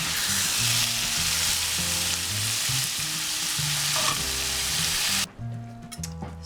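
Beef for a Danish-style stroganoff sizzles loudly in a pan while being stirred, a dense steady frying hiss with a low hum beneath, dropping away abruptly near the end.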